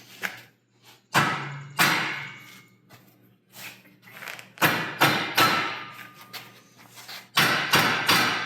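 A transmission being tapped into place on an LS engine, a series of sharp, close thuds and knocks in irregular bursts with quiet gaps between them.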